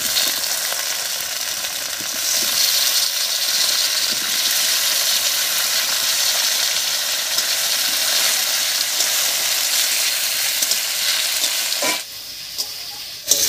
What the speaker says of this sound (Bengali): পেঁপে আর আলু দিয়ে একটু ভাজা ভাজা করে নিয়েছি